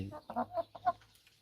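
Young laying hens ready to start laying give a short run of clucks, about four distinct calls, close by and moderately loud, then a quieter pause.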